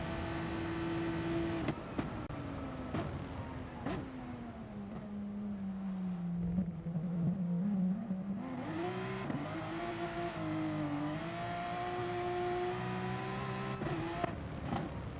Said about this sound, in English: You can hear the car rev bang off the rev limiter.